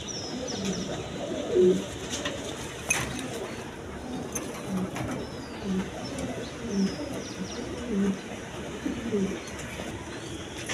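Pigeons for sale coo repeatedly in soft, low phrases at a steady rhythm, close by, with faint chirps and background noise around them.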